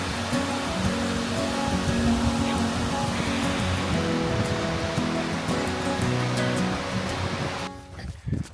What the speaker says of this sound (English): We're going to take a little blue blaze to a waterfall, Thoreau Falls.